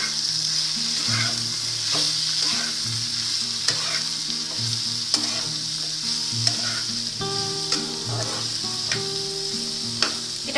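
Chillies, chilli powder and tomato fry in a pan for a green bean and potato curry, a loud steady sizzle with rhythmic spatula scrapes and knocks as the mixture is stirred.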